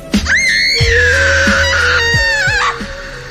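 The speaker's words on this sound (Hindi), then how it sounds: "दर्द के मारे बंजारन चीख पड़ी" A woman in a dramatized Hindi story screams in pain, a loud, sustained high-pitched cry lasting nearly three seconds with a few sharp breaks, set over low dramatic background music.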